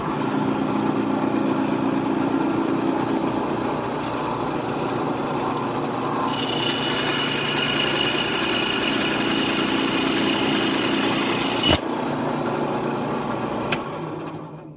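A power tool runs as it cuts a slit in a wooden dowel for a steampunk propeller blade: a steady motor whine that rises into a harsher, louder cutting tone midway, ending with a sharp click.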